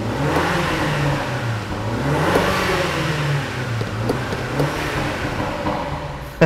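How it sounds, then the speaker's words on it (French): 2016 MINI Cooper Clubman S engine revving hard with a steady, loud mid-pitched drone and rising and falling pitch sweeps, with faint crackles from exhaust pops scattered through the sound. "On entend vraiment aussi les petits pop-corns à l'intérieur de la ligne d'échappement."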